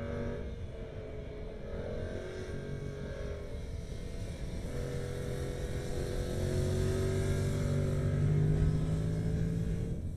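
A 2026 Yamaha MT-07 motorcycle engine pulls hard up a climb on a race track, its droning exhaust note rising steadily in pitch and loudness over about ten seconds, heard alone without talk.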